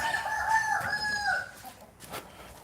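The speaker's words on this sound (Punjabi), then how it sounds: "ਦੇਸੀ ਮੁਰਗੀਆਂ" Desi country chickens on a farm: a loud rooster crow rings out close by for over a second, then fades into quieter background clucking and scratchy farmyard noise.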